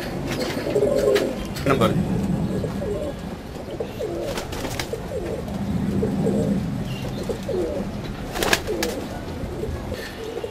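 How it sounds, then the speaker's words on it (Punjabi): Pakistani pigeons, including a moustached pigeon among numbered breeding pairs, coo in soft repeated throaty rolls at close range, with someone speaking over them and occasional sharp clicks. "ਮੁੱਛੇ ਵਾਲਾ ਕਬੂਤਰ ਹੈ ਸਾਡਾ"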